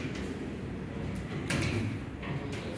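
Hydraulic lift doors slide open with a steady mechanical rumble over about three seconds, a few brief clunks marking the motion, heard up close with constant background hum.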